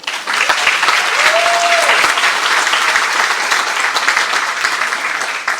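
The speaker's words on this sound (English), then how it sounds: "You could clap for that." Sustained audience applause fills a high school hall of fame induction ceremony, steady and dense throughout, with a brief tone rising near the start.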